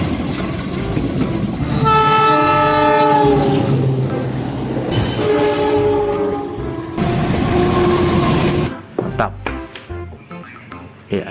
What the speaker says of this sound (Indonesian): Yang ini tipe KRL umum ya.